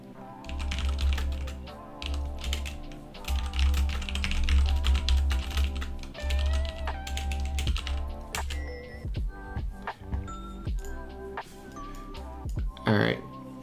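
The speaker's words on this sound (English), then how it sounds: "I'll just type it in the chat for now." Someone types on a computer keyboard near the microphone in bursts of rapid clicking with pauses between, while a person talks and a low hum runs beneath.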